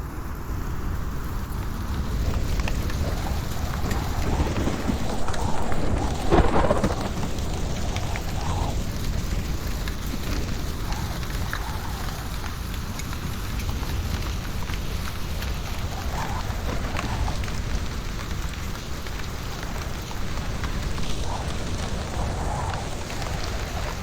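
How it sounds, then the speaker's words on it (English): A thunderstorm sound effect panned across a multichannel surround setup: dense, steady rain-like hiss with low rumbling, holding a constant loudness throughout with a slight swell near the start. "As you can hear, we can add some movement to our storm."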